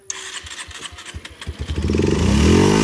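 A motorcycle engine is being started: a run of irregular cranking pulses and sputters catches and builds into a steady, loud running engine, close by, with no talk.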